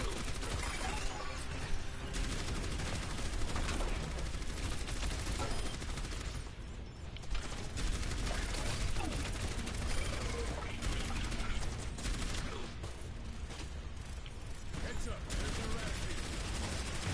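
Rapid gunfire bursts from the Overwatch Uprising game mode, sustained and dense across the clip with mechanical clatter mixed in, while players talk over the shooting.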